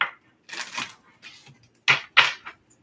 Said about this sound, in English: All right, final shuffle.